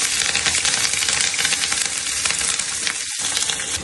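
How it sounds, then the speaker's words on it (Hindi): Green chilies fry in hot oil in a covered pan, giving a loud, continuous sizzle with crackling spatter throughout. "तो मिर्चा डाल के तेल में उसको ढक दिया है ताकि वो थोड़ा सा हो जाएगा"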